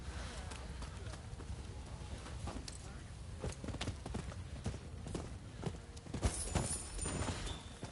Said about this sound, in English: Come on, baby, ride on my horse.